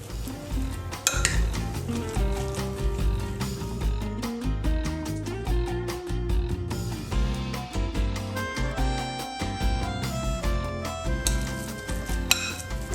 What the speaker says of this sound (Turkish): Ve bir kaşık yardımıyla ezerek karıştırıyorum.